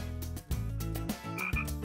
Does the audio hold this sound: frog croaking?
yes